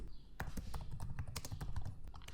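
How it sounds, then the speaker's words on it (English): Quick, irregular clatter of keys on a computer keyboard in a Windows PC session, close and fairly quiet, a burst of several taps with short pauses and no talking. "just press Windows plus R key on your keyboard and just write control"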